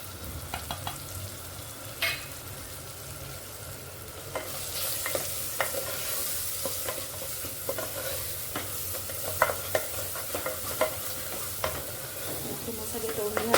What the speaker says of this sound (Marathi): मसाले तळून घाला.